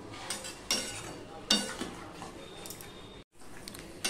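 Metal spatula stirring and scraping a mixed small fish chorchori in a pan, with soft sizzling and a few sharper scrapes and clinks at a steady close distance, no talk.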